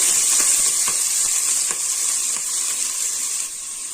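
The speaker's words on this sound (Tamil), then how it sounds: "வெங்காயம் வதக்கி விட்டுக்கலாம்" Steady, loud sizzling of chopped onions sautéing in hot oil for a keema kuzhambu, with a few soft stirring scrapes and no voices.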